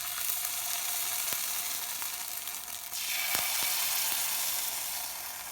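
A hot pan being brushed with oil for coconut custard bowls gives a steady, close frying hiss that swells slightly partway through, with a few faint clicks.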